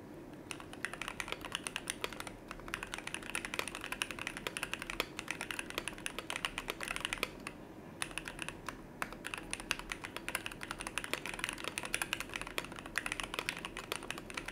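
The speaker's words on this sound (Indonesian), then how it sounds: "Dan untuk typing testnya silakan kalian dengerin sendiri." Typing on a custom mechanical keyboard, steady quick keystroke clatter close up and fairly quiet, continuing alone with a brief pause midway.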